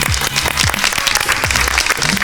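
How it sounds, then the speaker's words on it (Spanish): A studio audience gives a strong round of applause as a guest is welcomed onto a Spanish-language science talk show, dense continuous clapping filling the short stretch with a few low voiced sounds underneath. "¿qué te parece si le damos un fuerte aplauso y lo presentamos a Nico Olseiki?"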